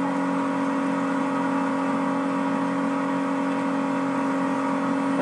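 A fast car driving in the Saints Row video game, a steady loud engine drone held at high revs for several seconds, with no pauses or gear changes.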